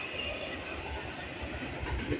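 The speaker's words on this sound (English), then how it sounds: "Got a train right there." A freight train rumbles past at moderate distance, its wheels giving a steady low clatter and a brief brighter hiss midway, fairly quiet throughout.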